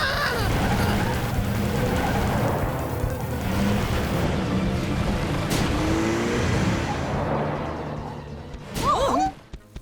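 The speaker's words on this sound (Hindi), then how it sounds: "लखा की गाड़ी डुग्गू के गड्ढों में फंस गई है।" A cartoon car stuck in potholes revs its engine in a continuous, rough, close drone that strains and fades near the end, followed by a short springy cartoon effect.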